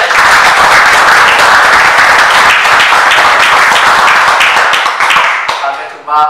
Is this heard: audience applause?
yes